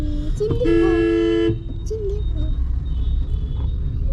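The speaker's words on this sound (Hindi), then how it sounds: "देख लीजिए ट्रैफिक कितना है, ट्रैफिक बहुत ही ज़्यादा है।" A long car horn blast sounds over the steady rumble of heavy city traffic in the Sector 19 market area of Chandigarh, with a few shorter toots, engine noise and a brief voice around it.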